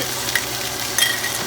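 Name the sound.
sauteing vegetables with thyme and bay leaves in a pot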